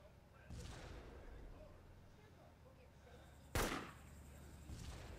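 A single sharp gunshot in the Arma 2 video game, a loud broadband crack standing out once against steady background noise and muffled talk.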